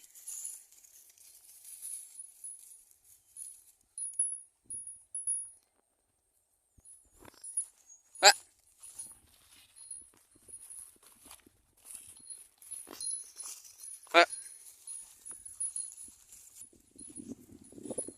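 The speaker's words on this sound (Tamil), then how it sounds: "இதுதான் நம்மட மாடு" A farmer's cattle walking, their hooves giving sparse, irregular clops and scuffs, mostly faint with a few sharper knocks, amid quiet outdoor background.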